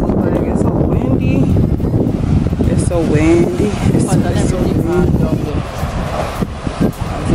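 Strong gusty wind roars and buffets the microphone by the sea, with a muffled voice briefly audible under the rumble.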